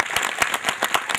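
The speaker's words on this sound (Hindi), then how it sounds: "एक बार जोरदार ताली से स्वागत करें।" Applause at a satsang welcoming a guest swami from an ashram, a short burst of many hands clapping with irregular sharp claps, fairly close and continuous, no talk over it.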